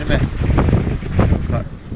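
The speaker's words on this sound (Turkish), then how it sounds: "Yaklaşık 15 nat rüzgar var." Strong wind of about 15 knots, gusting higher, blows at sea off Arsuz around a belly boat, a steady loud rushing buffet with microphone wind noise and water wash, continuous throughout.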